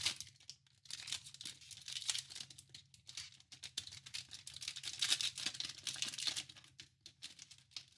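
A Panini Prizm football mega box card pack, thick with ten cards, is torn open by hand, giving close, quiet bursts of crinkling and ripping foil wrapper in uneven spurts.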